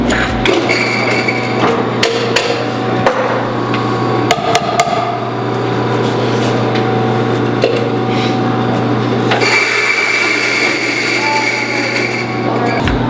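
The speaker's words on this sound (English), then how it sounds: "I'm going to grind it a medium grind on a scale from 1 being espresso, 11 being French press." A burr coffee grinder set to a medium grind mills Ethiopian coffee beans with a continuous loud droning whir. Sharp cracks and rattles of beans breaking run through it, and the grinding continues without pause.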